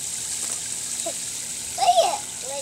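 A garden hose sprays water at a pool during children's play, a steady hiss running throughout, with a voice rising briefly near the end.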